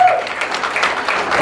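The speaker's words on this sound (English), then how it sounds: "Clap your hands together for the Lord." A church congregation at a Sunday healing service claps hands together in a dense, steady burst of applause, loud and close, with voices faintly mixed in.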